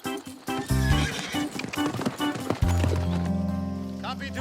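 Horses ridden along a bush track in a teen TV drama, with hooves clip-clopping in rhythm, a horse neighing and whinnying loudly, and music swelling underneath as riders move off.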